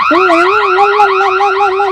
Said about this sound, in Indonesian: Tahu-tahu dengar suara alarm